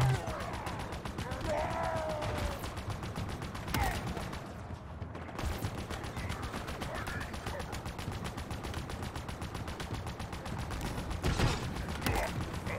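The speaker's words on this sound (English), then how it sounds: "Big explosions." Explosions and weapon fire in Halo Infinite, a steady, dense barrage of booms and rattling shots running continuously throughout.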